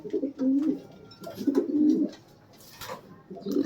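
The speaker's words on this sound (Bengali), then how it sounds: "আপনারা চাইলে কিং কবুতর পালতে পারেন" King pigeons cooing close by in a pigeon loft, several low throaty rolling coos in bursts with short pauses between, alone without talk.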